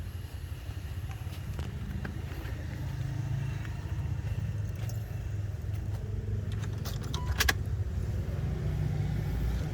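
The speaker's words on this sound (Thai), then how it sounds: "เดี๋ยวเรามาฟังเสียงเครื่องกันนะครับ" A 1997 Jeep Cherokee with the 4.0L engine idles, a steady low rumble held close and even for the whole stretch, with faint clicks and a brief jangle midway and no talk.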